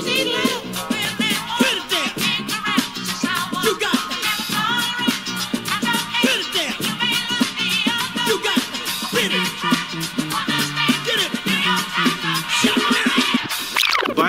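Drums playing a syncopated take on a disco groove, busy off-beat kick and snare hits under steady bright hi-hat or cymbal ticks, dense and loud throughout with no talking.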